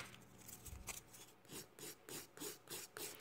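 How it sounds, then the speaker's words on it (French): Nail file rasping across a resin powder acrylic nail during a manicure demo, a series of short rhythmic back-and-forth strokes, close and fairly quiet, with no talking. "On va limer."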